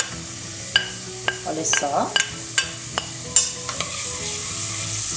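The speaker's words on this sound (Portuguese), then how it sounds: "Vou colocar a minha cebola e também já vou colocar o meu alho." Onion and garlic sizzling in a pan for a hot dog filling, a steady loud fry punctuated by sharp clinks of a utensil stirring against the pan, with someone speaking briefly.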